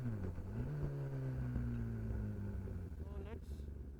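A 2019 Kawasaki Ninja ZX10R fitted with a Brocks exhaust holds a loud, steady engine note that rises in pitch through a rev, ending with a brief higher whine.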